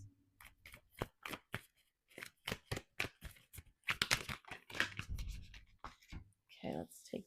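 Tarot-style self-care cards are shuffled and drawn by hand during a reading, giving a series of quick, close, crisp riffling and sliding bursts between soft spoken words.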